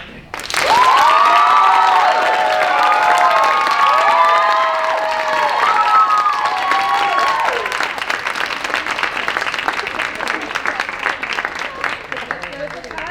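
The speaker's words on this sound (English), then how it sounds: "please give him another round of applause" A theatre audience at a show of the Bakkhai bursts into loud applause and cheering, with whoops and shouts over continuous clapping that gradually thins into scattered claps toward the end.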